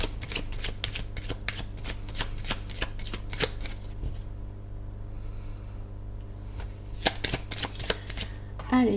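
Tarot cards shuffled by hand for a reading, crisp repeated riffling bursts in quick rhythm with a quiet pause midway, close up, with faint breathing and soft speech in the background.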